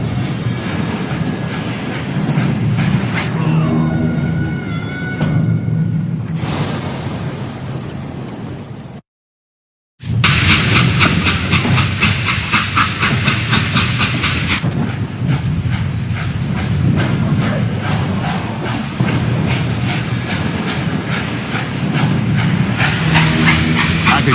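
A steam train in the video game Call of Juarez: Gunslinger rumbles and hisses loudly with rhythmic clatter, briefly cutting to silence near the middle before the heavy rolling noise and steam bursts resume.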